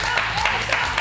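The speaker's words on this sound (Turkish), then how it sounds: "Ben de kendimi alkışlıyorum." A person claps their hands steadily and fairly loudly on a Turkish daytime TV talk show, the quick claps running together into a continuous patter across the whole moment.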